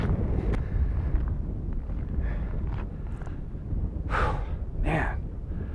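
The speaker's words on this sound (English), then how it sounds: "It's extremely windy right now." Strong wind buffets a windsock-covered microphone at a desert overlook in Death Valley, a continuous low roar with a few brief louder gusts near the end.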